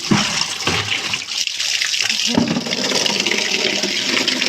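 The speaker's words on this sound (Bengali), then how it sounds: "জলটা ভরে যাক ফুল বালকে নিয়ে যেতে পারবো না হাফ বালতি নিয়ে যেতে হবে" A tap runs hard into a bucket, a loud continuous rushing splash of water filling it, close up and steady throughout without talk.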